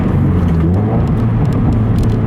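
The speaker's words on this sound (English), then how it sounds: "I'll show you a couple more times how I rev match" A Subaru BRZ engine heard from inside the car rises in a quick throttle blip while rev-matching a downshift from fifth gear, a loud, close, continuous engine drone with no talking.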